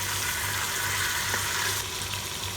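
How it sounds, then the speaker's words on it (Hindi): Chicken frying with onion and ginger-garlic paste for a turnip-spinach mutton dish gives a soft, steady sizzle with a low hum beneath, fairly quiet and unbroken, with no talk. "चिकन को प्याज और लहसुन अदरक के पेस्ट के साथ अच्छी तरह से फ्राई करेंगे"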